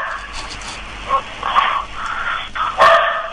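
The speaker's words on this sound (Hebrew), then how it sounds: "אתה יכול להשתיק את הכלב שם?" A dog barks several times in short, irregular bursts, moderately close and fairly loud, with faint room noise between the barks.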